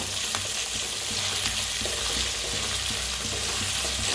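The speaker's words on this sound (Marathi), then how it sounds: "शिमला मिरची बी छान असं भाजून घेऊया" Capsicum, peas and curry leaves stir-frying for pasta in a pan, giving a steady close sizzle with faint scraping stirs throughout, no talking.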